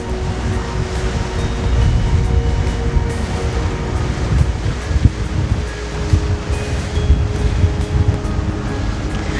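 Steady wind and rushing water around a Beneteau 40.7 sailing yacht tacking through a harbor mooring field during an evening race, a constant loud whoosh with small gusts and splashes and no talk.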